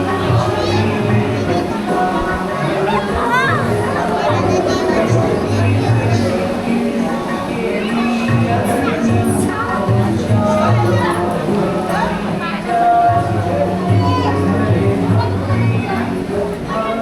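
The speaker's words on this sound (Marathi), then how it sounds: "भरपूर गर्दी असते इथे नेहमी दत्त जयंतीला" Devotees queue in a long line at the Datta Jayanti festival in Vashi village, their constant murmur of chatter, children's voices and shuffling footsteps filling the scene, with someone talking close by.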